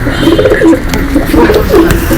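Pigeons coo repeatedly in soft, throaty bursts, close by and fairly loud, with no talking.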